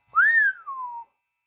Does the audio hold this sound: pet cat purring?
no